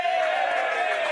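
Football crowd at a Northern Territory men's Premier League match, Wanderers against Waratah, appealing loudly for a decision: a steady, dense roar of massed voices holding at an even level throughout.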